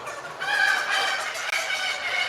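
Several chickens on a farm cluck and call together nearby in a continuous, overlapping chatter of bird noises.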